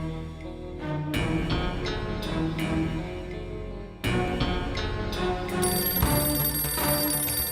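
A telephone rings clearly in bursts of bright, repeated ringing tones that stop and start again several times, with no talking over them.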